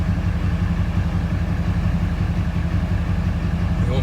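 An old gas Chevy truck and a two-wheel-drive Ford run their engines, a steady low rumbling drone close by with no pauses.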